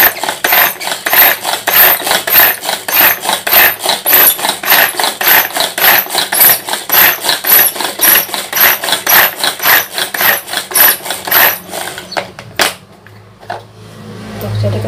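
A hand-cranked grinder minces fish for fish balls, giving a fast, steady run of close mechanical clacks that go on for about twelve seconds before stopping abruptly.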